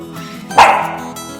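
A single sharp bark-like yelp, close and fairly loud, rising out of a quiet indoor background and trailing off quickly.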